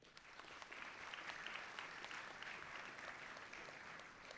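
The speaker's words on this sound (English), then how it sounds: "Big round of applause for them." Steady audience applause at a sports tournament's closing ceremony in Vancouver, a dense, even wash of many hands clapping at a distance for several seconds with no talk over it.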